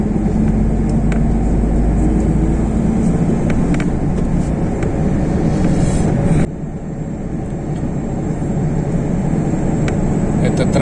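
Continuous roadside traffic roar on the Kuchurgan–Tiraspol highway near the Transnistrian border, with grain trucks and container lorries passing, a steady broad rumble from inside a moving vehicle that drops slightly partway through, with voices talking over it.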